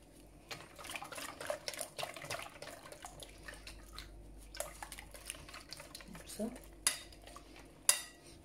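A utensil stirring Nesquik cake batter in a bowl, with irregular clinks and scrapes against the bowl, a few louder knocks near the end, and faint background hum.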